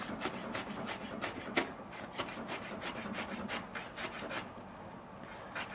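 A knife slices thin radish pieces into juliennes on a board, a quiet series of quick, evenly spaced crisp cuts with soft scraping between strokes, close and alone.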